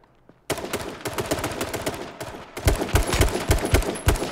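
Bursts of rapid gunfire in a team first-person shooter video game, loud and dense, with sharp repeated shots clustered through most of the stretch after a brief quiet start.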